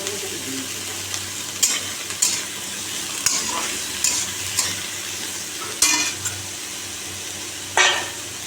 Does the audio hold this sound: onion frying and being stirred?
yes